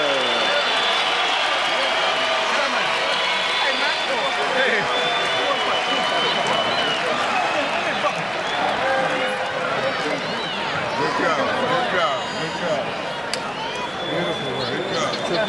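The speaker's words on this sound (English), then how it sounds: "It wasn't a big crowd, but those who were here appreciated what they saw." A boxing arena crowd at a Floyd Mayweather vs Sharmba Mitchell fight applauds and cheers after a knockout, with sustained clapping and crowd noise under continuous talk.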